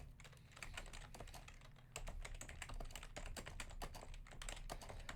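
Typing on a computer keyboard while writing Java code, a fast, steady patter of close key clicks that thickens slightly partway through and runs continuously with no talking.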